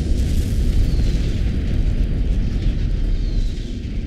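Missile explosions in the space combat game Strike Suit Zero form a loud, continuous wall of rumbling blasts, with rolling booms layered over one another throughout and no pause.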